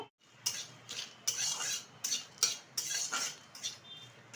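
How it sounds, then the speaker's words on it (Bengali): A spoon scrapes repeatedly around a pan in which whole spices, cardamom and cinnamon, are being fried, giving about eight rhythmic metallic strokes over a faint sizzle. "এখন ভালোভাবে কিন্তু এটা আমি ভেজে নেব।"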